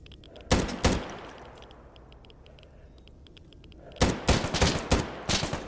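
Large-caliber gunfire in the Stalker Gamma shooter cracks out as two sharp shots, then after a quiet pause a rapid series of heavy, loud reports rings out at close range.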